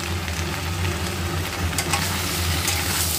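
Food frying in a pan with a little Kashmiri chili powder, being stirred: a steady, loud, close hiss of sizzling oil with faint scraping strokes through it, no voices.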